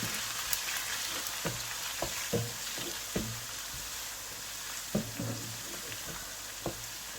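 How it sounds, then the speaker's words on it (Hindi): Garlic and ginger paste sizzling in a pan for Lahori street-style chana, a steady frying hiss broken by occasional louder spatters and stirring clicks, with no talk. "मैं थोड़ी देर इसको इसमें भूनूँगी"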